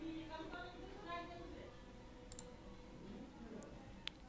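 A computer mouse clicks on an online loan application button, with a few faint, sparse clicks heard under quiet speech.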